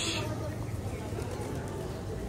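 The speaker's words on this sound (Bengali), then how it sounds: "কবুতর" Pigeons coo faintly at the Shah Jalal shrine in Sylhet, under the steady murmur of a crowd of visitors talking nearby.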